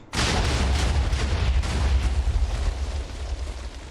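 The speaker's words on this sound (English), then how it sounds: "It's a big old fireworks show" Fireworks go off in a video game map, a loud continuous barrage of deep booming blasts and crackling bursts that rolls on for several seconds, then slowly eases.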